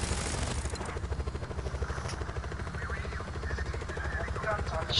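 Helicopter in the video game Just Cause 4, a steady rotor and engine drone running throughout under frequent talk from players.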